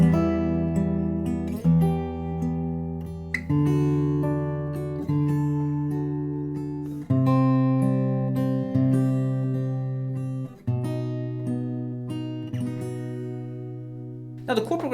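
Guitar chords played in two different positions to form a melody, strummed chords ringing out and decaying with a new one struck every second or two, alone with no talking.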